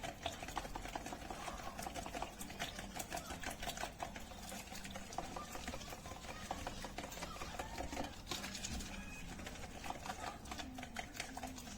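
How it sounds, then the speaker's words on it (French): A whisk beats quiche batter in a bowl with rapid, steady rattling strokes, close and continuous for several seconds without talk. "Et je viens fouetter vite fait."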